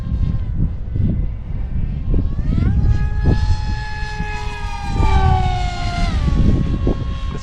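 A small Astro Z 800mm RC pusher jet on a 4S battery whines overhead in gusty wind, its thin electric motor tone sliding up and down in pitch over constant wind buffeting.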